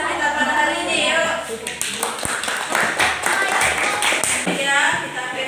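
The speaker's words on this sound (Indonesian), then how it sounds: "beri aplaus ya untuk pelajaran kita pada hari ini" Classroom of students applauding at the end of a lesson, a burst of quick overlapping claps with a teacher's voice speaking over parts of it.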